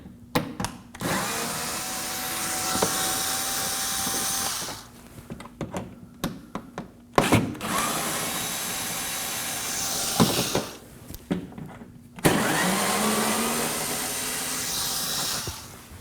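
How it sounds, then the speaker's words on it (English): Phillips screws being backed out with a hand screwdriver while removing the front inner fender liner of a 2014-2020 Acura MDX, with short scraping and clicking bursts between louder broadband stretches and pauses. "we're going to remove these three Phillips screws using a screwdriver"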